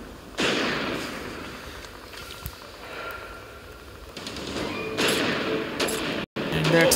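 Several heavy bursting blasts from an explosive crossbow in the mobile shooter Respawnables, a couple of loud thumping impacts spaced seconds apart over steady game noise, with a voice talking at times.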